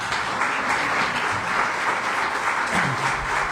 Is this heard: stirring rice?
no